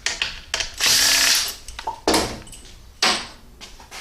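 Ratchet removing valve body bolts from a 6L80-E automatic transmission, giving several short bursts of clicking and whirring with brief pauses between them, close up.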